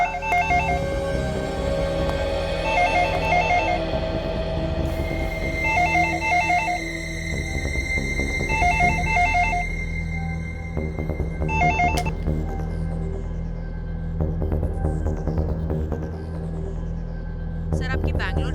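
An electronic telephone rings in repeated bursts of warbling tones, several rings spaced a couple of seconds apart over a low background music bed, in a crime-drama scene.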